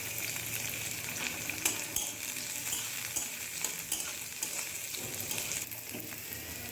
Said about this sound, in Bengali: এবার আমি পেঁয়াজগুলোকে ভেজে নেব একদম গোল্ডেন ব্রাউন করে।